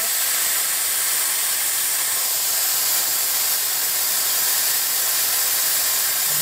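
Steady, loud rush of air hissing out of an off-road tire through an Apex Designs Rapid Precision Valve while airing down toward 7 PSI, a continuous broadband whoosh with no pauses.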